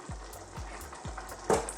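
Cumin and coriander powder with salt frying in oil for an Indian beef masala curry, a soft close sizzle broken by a few quick scraping stirs of the spoon in the pan.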